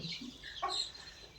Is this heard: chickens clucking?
yes